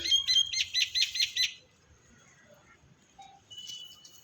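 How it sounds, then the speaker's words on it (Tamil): Several birds calling in a home garden among flowering plants, a quick run of bright chirps and tweets for the first second and a half, then faint scattered calls against quiet background; no distinct pigeon cooing stands out. "நிறைய புறாக்கள் பேர்ட்ஸ் எல்லாம் நிறைய வரோங்க நமக்கு பாருங்கள் எப்படி சவுண்டு கொடுத்துட்ருக்கு பார்த்தீங்களா அந்த சவுண்டு"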